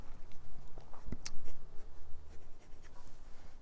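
A Sailor fountain pen with a fine steel nib scratches across paper in short, close strokes and taps, a soft continuous scribbling with irregular rhythm.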